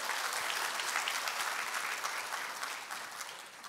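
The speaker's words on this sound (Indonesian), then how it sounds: "beri tepuk tangan untuk kita semua" An audience at an Indonesian Atomy company meeting claps together in a full, continuous round that stays strong, then gradually thins and fades toward the end.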